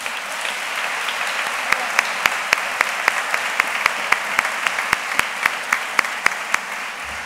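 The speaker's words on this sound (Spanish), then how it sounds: "Un aplauso grande." Audience at a fair's opening ceremony applauds for a young dancer, a steady wash of clapping with sharp, rhythmic claps cutting through in a regular beat.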